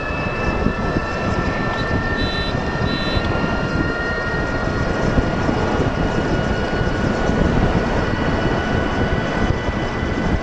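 An unusual open-top car runs near its top speed, producing a constant, loud roar of engine and wind that fills the whole stretch without pause and with no voices over it.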